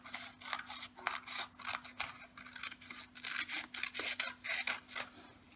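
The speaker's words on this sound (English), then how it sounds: "Then we're going to quickly cut them out." Scissors snipping through paper to cut out long strips for a children's craft, a close, steady series of crisp rasping cuts in quick rhythm with no talking.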